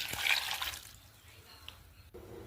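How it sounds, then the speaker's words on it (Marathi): Water poured into a cooking pot holding jaggery while making a traditional jaggery sheera, a bright splashing gush up front that thins to a faint trickle, with a short sharp click near the end. "इथे आपण या पातेल्यामध्ये गूळ टाकून घेऊया आणि त्याच्यामध्ये पाणी घालूया"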